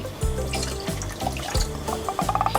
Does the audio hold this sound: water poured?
yes